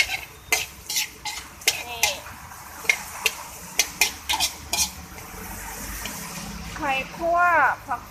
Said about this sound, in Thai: คั่วให้แบบเป็นให้ไข่สุกค่ะ